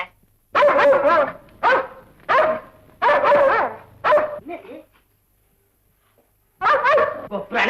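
A dog in a Tamil comedy film scene barks loudly and close by in a quick series of sharp barks, pauses, then barks again, with a few short whimpering yips in between.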